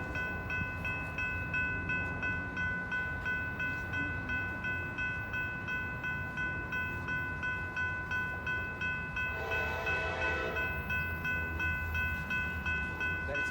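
A southbound train rolls past at speed near McCord Park, a steady broadband rumble with rail hum running the whole time and a brief brighter swell partway through; a voice speaks briefly.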